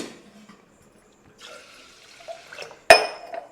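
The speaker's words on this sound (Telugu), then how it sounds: "ఇంకొన్ని వాటర్ యాడ్ చేసుకొని ఇక్కడ వరకు వచ్చేంతవరకు పోసుకోవాలి" Water poured into soaking rice and urad dal for dosa batter, soft trickles and small splashes building to one sharp, close pour near the end.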